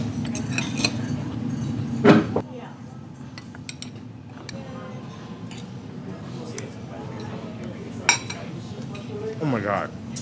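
Knife and fork scrape and clink against a plate while a piece of steak is cut on a Windstar Cruises ship, with a sharper clatter early and again near the end, over a low background hum and murmur.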